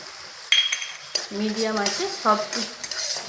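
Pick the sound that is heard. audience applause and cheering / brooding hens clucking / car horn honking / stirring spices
stirring spices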